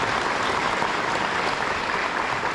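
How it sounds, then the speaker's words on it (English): Steady applause from a convention audience, a dense wash of clapping that holds at an even level the whole time. "On peut les applaudir."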